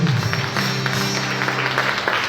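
A congregation at a Catholic healing and deliverance mass claps together, a brief loud wash of applause over a sustained low musical tone, with faint voices underneath.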